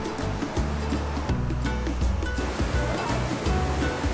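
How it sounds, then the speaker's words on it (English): The Soda Dam waterfall in Valles Caldera, New Mexico, a mineral formation, gives a steady loud rushing roar of falling water that fills the whole stretch without pause. "So Kayla, I'm looking at that waterfall"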